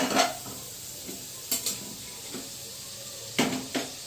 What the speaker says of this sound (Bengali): 1 মিনিটের মতন আমি তেলের সঙ্গে এই মশলাটা ভেজে নিচ্ছি।